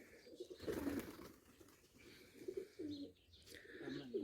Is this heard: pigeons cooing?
yes